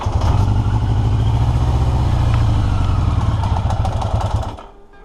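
A 1982 Yamaha XJ650 motorcycle engine running with the choke on just after its first start, a loud, close, even putter that holds steady for about four seconds and then cuts out.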